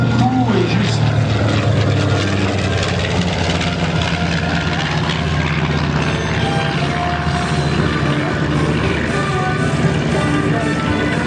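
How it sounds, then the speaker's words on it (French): A B-25 twin-engine bomber at the La Ferté-Alais air show runs its piston propeller engines in a loud, steady, throbbing drone close by, with voices talking over it. "Là voilà le B-25."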